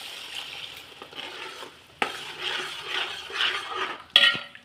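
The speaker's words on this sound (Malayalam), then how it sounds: "ഇനി നമുക്ക് അതിലോട്ട് മൂന്നാം പാല് ഒഴിച്ചു കൊടുക്കാം" Third coconut milk is poured into jaggery in a pan for tender coconut payasam, giving a soft sizzle and stirring with occasional clinks of a utensil against the pot, close by and with no talk.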